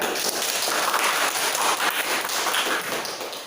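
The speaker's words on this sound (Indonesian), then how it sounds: "berikan tepuk tangan dulu buat dia" Classmates applaud a student in a classroom. Steady, dense clapping fills the whole stretch at an even level, with no talking over it.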